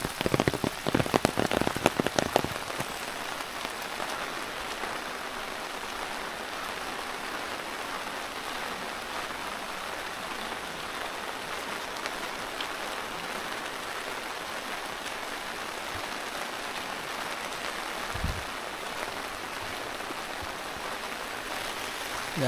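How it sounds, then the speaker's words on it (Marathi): Light rain falls steadily over a village hamlet, a constant soft patter on surfaces with a few louder close drops and knocks early on, no voices. "जास्त मोठा पाऊस नाही आहे"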